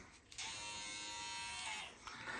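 Electric hair clipper fitted with a taper blade switches on and buzzes steadily up close for about a second and a half, then cuts off.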